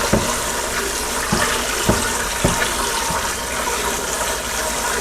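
Shrimp, corn and potatoes being stirred into a pot of boiling water for spicy boiled shrimp, giving a steady watery rush with a few soft splashy knocks from the mixing, near and continuous with no talk.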